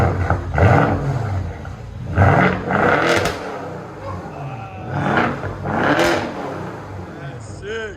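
BMW 650i with a 4.4L V8 and a loud modified exhaust, revving several times in rising and falling surges, close by, while people talk over it.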